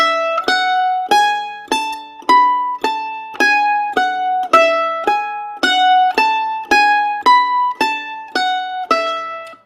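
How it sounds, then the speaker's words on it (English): A mandolin plays two finger-exercise patterns back to back, a long steady chain of evenly picked, ringing single notes climbing and falling in regular rhythm, close and solo. "So the 2 movements together sound like this."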